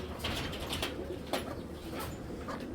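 Flying pigeons kept in a loft cooing softly nearby in short repeated calls, with a few brief flutters and rustles in between.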